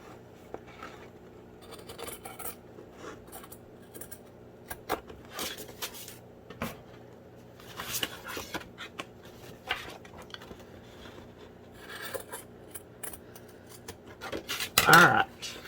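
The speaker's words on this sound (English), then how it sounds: "So I'm going to grab my fabric scissors," Fabric scissors snip away excess material from a file folder folio journal, a series of close, irregular metallic cuts and rubbing sounds, with a louder scrape near the end.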